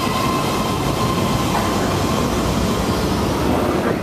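A Bay Area Rapid Transit (BART) green line train on the Fremont–Daly City line gives a steady, loud rumble of rail noise and wheel clatter that holds throughout, with no voices.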